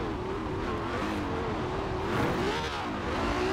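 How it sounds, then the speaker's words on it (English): A stock 2017 Ferrari 812 Superfast's engine in Forza Horizon 4 holds a steady, fairly loud rev, its tone rising slightly near the end, with no talk over it. "Engine produces so much power, it's very nice"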